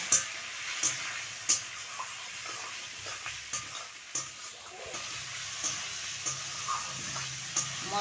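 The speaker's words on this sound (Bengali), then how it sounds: "এবার আমি আলুগুলো দিয়ে দেবো" Potatoes added to frying spiced masala for a fish curry with aubergine, a spatula clinking against the pan at a steady rhythm over a soft continuous sizzle, close by.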